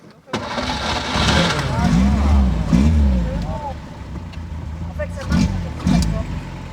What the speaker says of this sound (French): Ça fait un super bruit cette voiture